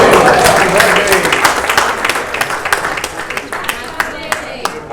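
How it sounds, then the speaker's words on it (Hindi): Audience applause at a formal gathering during a talk about an inspiring book, a dense burst of clapping that thins into scattered claps toward the end, with some voices and cheers mixed in. "मेरे को ये पता था कि इस पे सबसे ज़्यादा तालियां पड़ेंगी"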